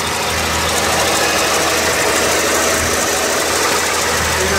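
The engine of a 1986 Chevrolet C10 pickup runs steadily up close, a loud, even mechanical rumble with a faint rhythmic knock and broad hiss, no voices.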